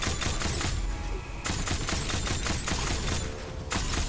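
Rapid gunfire from a weapon in the dark fantasy shooter Witchfire at Irongate Castle, a dense, loud stream of shots with brief pauses and changes in rhythm, and no talking over it.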